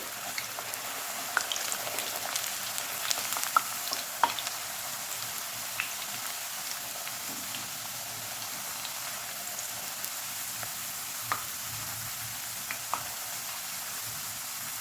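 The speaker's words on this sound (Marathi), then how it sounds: "आता चिप्स तळून घेऊ आपण गॅस फास्ट ठेवूनच चिप्स तळून घ्यायचे" Homemade potato chips fry in hot oil on a high gas flame, giving a steady, even sizzle with occasional small pops and crackles throughout, heard alone and at moderate volume.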